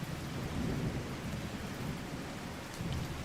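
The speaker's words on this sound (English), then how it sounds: "Some thunder." Thunder rumbles low under steady rain pattering on surfaces, an ambient storm effect in the video game Wild Terra 2, moderately quiet and continuous with no voices.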